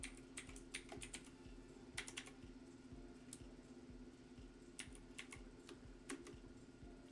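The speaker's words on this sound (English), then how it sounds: "I'm going to try to type it." Close keyboard typing at a computer, steady irregular key clicks spread across several seconds over a constant low fan hum, no voices.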